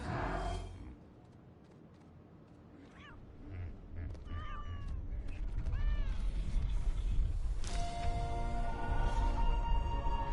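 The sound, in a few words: cat meowing in Ark Survival Ascended video game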